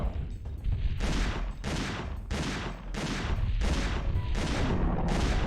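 Dense bursts of gunfire from Dino Crisis 2 come in repeated loud volleys roughly every second, each blast smeared into a continuous, heavy roar of shots.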